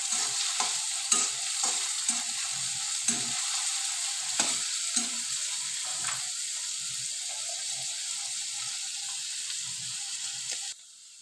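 Steady sizzling of onion and garlic paste frying in hot oil, with repeated scraping and stirring sounds over the continuous hiss.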